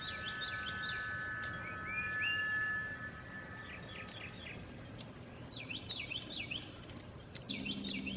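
Pet birds chirping indoors in the morning, a steady chorus of high, repeated tweets and short calls at moderate distance over a constant electrical hum, with no talk.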